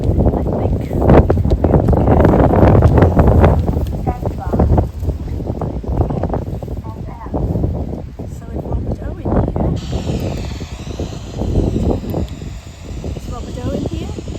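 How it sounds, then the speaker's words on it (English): Strong outdoor wind buffets the microphone in heavy low rumbling gusts, loudest early and easing later, while people talk over it. "It's been super windy."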